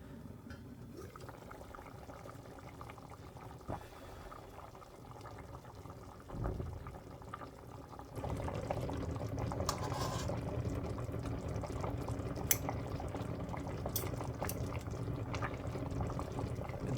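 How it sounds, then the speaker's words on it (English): Japanese lamb curry bubbling in a pot on the stove, a steady low rumble of boiling that grows louder and fuller partway through, with a few faint clinks and no talking. "Now let's bring this to a boil."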